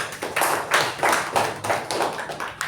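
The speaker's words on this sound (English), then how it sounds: "Huge round of applause to our table topic master." A small meeting audience claps for the table topics master, a steady run of hand claps with a pulsing rhythm, moderately close and without talk.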